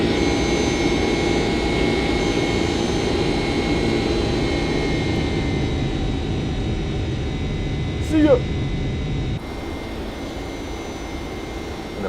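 Airplane engine roars in a steady climb in the flight simulator X-Plane 10, a constant broadband drone with wind rush throughout and a brief voice calling out near the end.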